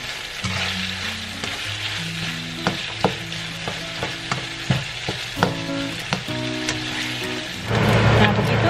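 Skipjack tuna flakes stir-fried in a pan until dry and lightly browned, a steady close sizzle broken by repeated spatula taps and scrapes, with a faint musical tone running underneath.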